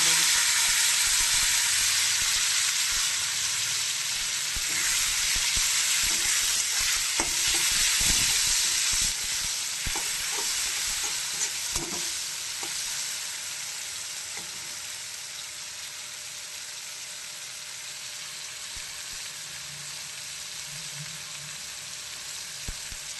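Onion fries in hot oil in a kadai and is stirred, giving a steady, loud sizzle with occasional scraping stirs. The sizzle fades gradually toward the end.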